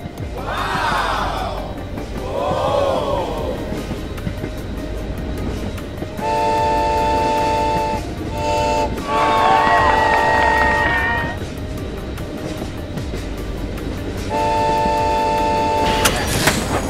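A LEGO high-speed cog railway train, driven by a strong motor up a sloped track, runs with a steady rumble broken by repeated whistle-like toots and sweeping electronic tones.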